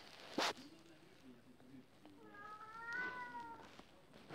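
A cat meows several times at close range, a few drawn-out rising and falling cries over a quiet room with faint background sounds.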